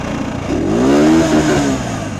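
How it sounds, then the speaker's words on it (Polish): A GB Street 200cc four-stroke motorcycle engine is revved once, its pitch sweeping up and falling back in a loud, close, throaty roar over a steady idle. "ja kocham po prostu cztery suwy i dodajesz gaz i ten taki swoisty boruk"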